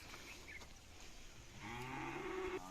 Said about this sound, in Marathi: 2025 ची घटप्रभा चॅम्पियन गाय आहे खिल्लार गाय गौरी.